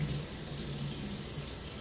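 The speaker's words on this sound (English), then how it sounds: "So I'm putting in the water." Water runs steadily from a tap into a cooking pot, a continuous close splashing stream with an even level and no talk over it.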